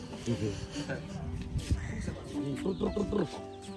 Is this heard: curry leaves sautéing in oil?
no